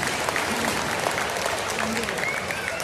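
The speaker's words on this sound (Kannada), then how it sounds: "ನಮ್ಮ ಸಂಘಕ್ಕೆ ಒಂದು ಜೋರಾದ ಚಪ್ಪಾಳೆ ಕೊಡ್ಬೇಕಂತ ವಿನಂತಿ ಮಾಡ್ಕೊಳ್ತೀನಿ" An audience at a comedy program during a full-moon religious gathering claps in a steady burst of applause, dense and continuous, with crowd noise and a voice mixed in.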